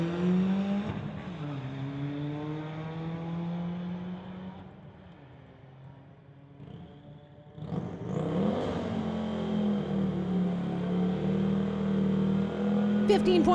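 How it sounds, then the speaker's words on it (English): A Volkswagen and a Lexus launch at a drag strip street-legal event, their engines revving hard with rising and falling tones. A brief lull follows before a loud second surge of acceleration that holds to the end. "We got a Volkswagen versus a Lexus coming up next."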